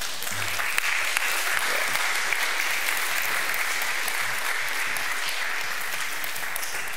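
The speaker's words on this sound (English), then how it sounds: "I never get applause like that when I come up to preach." A church congregation claps together after a scripture reading, a broad, even wash of applause sustained for several seconds with no break.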